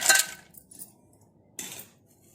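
Ice cubes dropped into a mixer jar for papaya juice: a sharp clinking clatter at the start, a lighter knock, then a second rattling drop, with quiet between.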